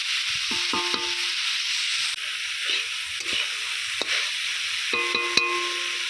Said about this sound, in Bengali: সব কিছু খুব ভালো করে ভেজে নেবো